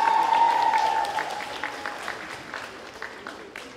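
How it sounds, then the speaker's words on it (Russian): An audience at a festival opening applauds during the jury introductions, loud and dense at first. The clapping then gradually thins and fades over a few seconds. "Аплодисменты!"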